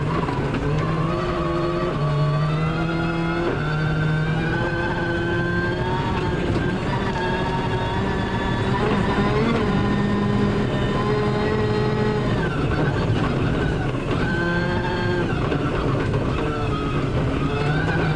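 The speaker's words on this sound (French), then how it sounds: "Il pilote une Ford Focus, ancienne génération." Old-generation Ford Focus rally car at Wales Rally GB, engine revving hard and loud with repeated rising and falling pitch as it shifts through gears on a fast stage, sustained and close throughout.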